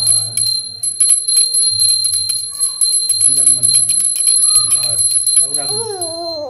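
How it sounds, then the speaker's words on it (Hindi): Small prayer bell rung rapidly at a home puja, bright repeated tinkling strikes throughout while people talk over it. "घंटी बजा पहले घंटी बजा ये तो रही बजा"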